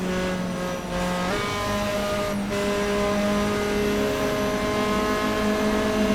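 A race car engine screams steadily at high revs with sustained harmonic whine, bouncing off the rev limiter over a continuous roar, with other cars such as a Cobra, Mazda RX-7 and Alfa Romeo GTA racing nearby.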